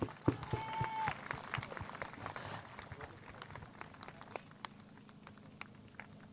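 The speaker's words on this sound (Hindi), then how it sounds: "ताली बजाकर धन्यवाद दें।" A congregation at a prophecy service clapping hands in thanks, a dense patter of applause that starts loud and thins out over several seconds, with a short vocal tone near the start.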